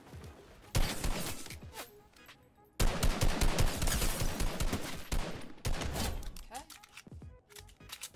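Bursts of rapid gunfire crackle in a Fortnite match, loud bursts aimed at the player separated by short pauses, with a voice talking between the volleys.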